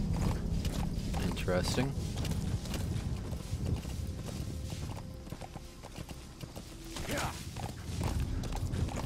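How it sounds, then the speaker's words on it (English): A horse's hooves clip-clop at a walking pace in Metal Gear Solid 5: The Phantom Pain on Xbox One, set under game music and effects while a player talks briefly. "Onward, trusty steed."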